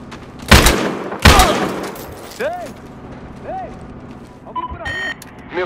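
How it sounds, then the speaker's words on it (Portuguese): Two sharp, loud gunshots crack close by in the video game Battlefield Hardline, followed by synthetic whooping and beeping game effects under a low background rumble. "Eu ouvi tiros e..."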